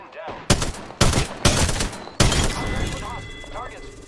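Four sharp bursts of gunfire in Apex Legends crack out in quick succession, loud and close, followed by a denser rattle of shots with game effects trailing behind.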